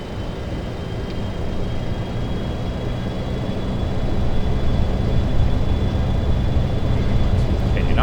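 Three-engine Boeing 727 jet at takeoff power on the runway, FlyJSim model in X-Plane, a steady broadband roar that swells slightly partway through and holds loud and continuous.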